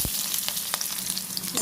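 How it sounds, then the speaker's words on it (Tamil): Chopped onion hits hot oil already crackling with cumin seeds for a village-style dish, giving a close, steady sizzle with occasional sharper pops and stirring scrapes, no talk. "நறுக்கி வச்ச வெங்காயம் போட்டுக்கிறோம்."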